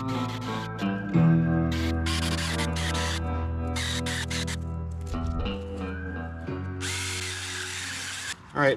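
A small Sainlogic chainsaw whines steadily at a high pitch, bogging briefly as it bites into green maple branches, then revving up again between cuts.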